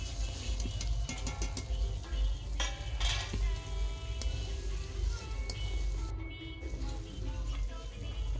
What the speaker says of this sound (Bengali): এখানে মাছ ভাজা হচ্ছে মাছের ঝাল হবে